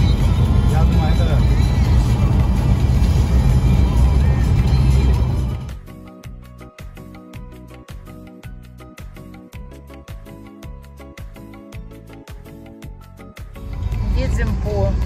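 A car drives along a narrow road with a drop-off to one side in Turkey, its steady road and engine rumble loud at first, then dropping away into a quieter stretch with rhythmic music before the rumble returns; voices talk over it.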